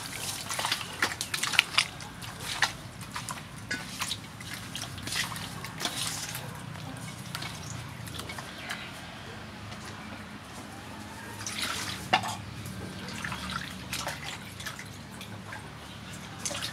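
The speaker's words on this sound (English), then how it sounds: "Add some water" Water poured into a bowl to clean sea mushrooms: irregular drips, trickles and light sloshing, fairly faint and close, spread across the whole stretch.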